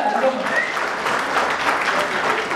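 Audience clapping at a Marathi film event, a dense steady patter of many hands filling the whole stretch, with a voice briefly audible over it near the start.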